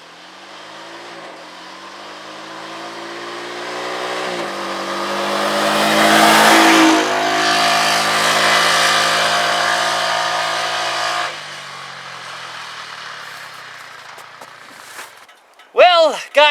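A stock 2009 Yamaha Rhino 700 side-by-side UTV on smaller tires makes a performance run, its engine revving up and climbing in pitch toward a loud peak midway, easing off, then rising sharply again at the end, with some talk over it.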